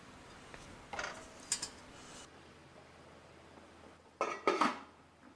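Vegetables for a Moroccan seven-vegetable vegan couscous are dropped back into a pot of stock, giving a few soft clatters and knocks of a utensil against the pot, the loudest burst near the end.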